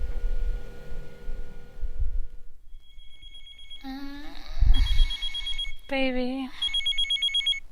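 Telephone ringing in repeated bursts of warbling electronic tones late at night, with a voice speaking at the start and mid-ring.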